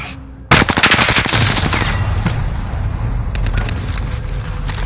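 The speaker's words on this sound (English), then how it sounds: "Yeah, we're taking fire!" Sustained automatic gunfire in the video game Call of Duty: Warzone: a rapid burst of shots erupts abruptly, then gives way to a steady roar of continued firing and distant shots, loud and close with no talk over it.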